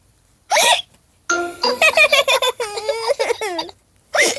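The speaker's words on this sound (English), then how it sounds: "Now he has hiccups." A cartoon pig in a children's animated show hiccups, sharp squeaky bursts at the start and end of the clip, with cartoon voices and tonal vocal sounds in between.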